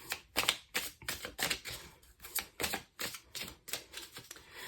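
Tarot cards are shuffled in quick bursts, a rapid riffling patter repeating about a dozen times, close and crisp with no talking.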